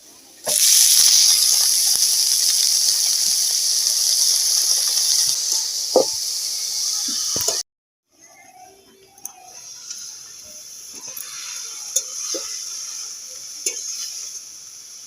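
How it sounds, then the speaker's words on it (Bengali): Bathua greens fry with cumin, turmeric and salt in a hot pan. A loud, steady sizzle with stirring scrapes drops suddenly to a quieter crackle dotted with light clicks and taps. "শাকটা ভেজে নিচ্ছে"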